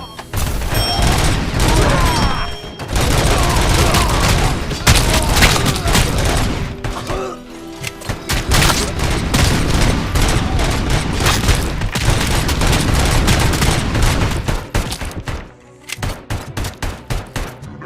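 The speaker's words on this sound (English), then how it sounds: "死体打ちしてるんだね" In RoboCop: Rogue City, gunfire pours into a corpse: a loud, dense stream of rapid shots with brief pauses, close and dominant, while a robotic voice and a commentator speak over it.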